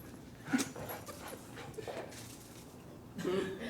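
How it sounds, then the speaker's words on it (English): A dog whimpers and yips faintly in a few short bursts while moving around, quiet and somewhat distant, over low background noise. "The dog's running amok."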